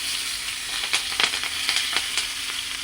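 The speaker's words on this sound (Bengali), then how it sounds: "এবার আমি গরম তেলের মধ্যে দিয়ে দিচ্ছি ক্যাপসিকাম" Green and red capsicum sizzle in hot oil, a steady bright frying hiss with scattered sharp crackles and pops, close and continuous with no talking.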